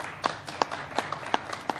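Scattered, sparse hand claps from an audience at a film opening ceremony, a handful of separate sharp claps spaced through the moment rather than a full ovation, moderately quiet in a room.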